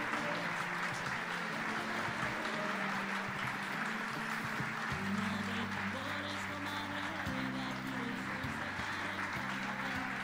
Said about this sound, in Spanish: Fuerte el aplauso para ellos y para todos.